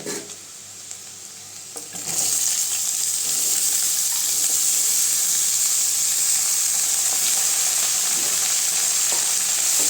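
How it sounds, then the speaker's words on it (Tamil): Bitter gourd pieces dropped into a pan with softened onions, where a quiet background suddenly gives way to a loud, dense sizzle that holds steady while being stirred up close. "காய் சேர்த்துட்டு நல்லா கிண்டி விட்டுக்கலாங்க."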